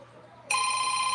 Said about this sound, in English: that phone ring